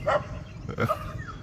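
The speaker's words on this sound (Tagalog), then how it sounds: "Yun yung mga aso dyan sa kabila." Dogs barking from next door, a couple of short yelping barks at moderate distance within about a second and a half.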